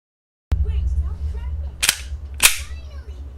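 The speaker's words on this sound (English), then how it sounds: "that is the sound of a Smith & Wesson M&P shield being racked" Smith & Wesson M&P Shield pistol slide racked twice, two sharp close metallic clacks about half a second apart over a low steady background hum.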